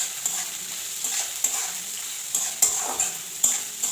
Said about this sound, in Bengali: বিনস আর গাজর কুচি হালকা করে ভাজা করে নেব